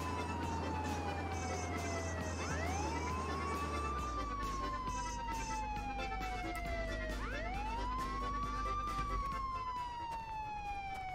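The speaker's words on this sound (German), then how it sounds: "Machen wir Sirene aus." A police car siren in the video game Contraband Police wails in rising and falling sweeps, loud and close over a low engine drone, and cuts out near the end.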